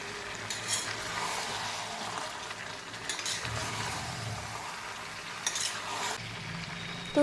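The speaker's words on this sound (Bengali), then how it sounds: "সবজিগুলো দিয়ে ভালো করে নাড়াচাড়া করে নিলাম" Marinated chicken and vegetables fry in a pan while being stirred, with a soft continuous sizzle and occasional scrapes and utensil clinks at close range, fairly quiet, with no speech.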